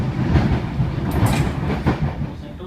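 A Sydney Trains S set electric train runs along the rails, giving a steady, loud rolling rumble with faint rhythmic clicks and brief brighter squeals, heard from on board with no talk.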